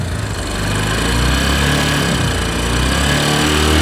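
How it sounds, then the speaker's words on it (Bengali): Buzzing, whirring rattle from the head of an old Discover 135 motorcycle engine running at a steady idle, close and loud, with a continuous droning hum and no voices. "কিন্তু তারপরে হেড থেকে ঝিঝিরি সাউন্ড আসতেছে"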